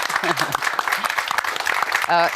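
Applause breaks out for business leaders at an awards event, clapping mixed under a voice and crowd chatter, ending with a brief tonal sound.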